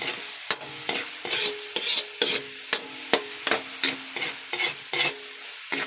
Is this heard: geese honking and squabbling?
no